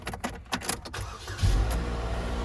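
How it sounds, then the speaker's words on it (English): A 2007 Chevy Cobalt car cranks over on a cold start, with short clicks and rustles giving way to the engine catching and settling into a steady low idle, close and moderately loud. "She started right up though. The engine sounded good on the cold start."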